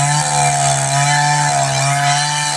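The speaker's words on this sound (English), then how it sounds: "Gotta love a dull saw." A dull chainsaw bites into a big white oak log, its engine holding a steady, loud buzzing whine with a strong pitched hum, close and alone.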